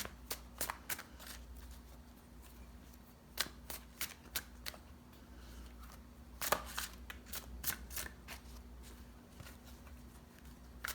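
Tarot cards being shuffled for a reading, repeated brisk riffles and slaps in irregular bursts, close but fairly quiet, with a soft hum beneath and no talking.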